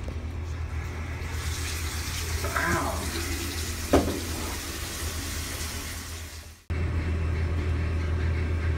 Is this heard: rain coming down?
no